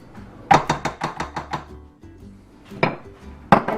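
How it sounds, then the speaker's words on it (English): Sour cream batter is worked in a mixing bowl: a quick run of about seven sharp, close clacks against the bowl, then a pause and a few more knocks. "Now make sure you scrape along the sides of your bowl when necessary."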